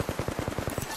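Rapid automatic gunfire from Bangalore's weapon in Apex Legends, a steady stream of about ten evenly spaced, punchy shots across a second, loud and close with no talk over it.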